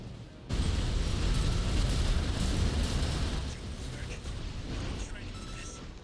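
Missile explosions in Armored Core 6 erupt into a loud, dense roar that starts abruptly and rumbles on, slowly easing off.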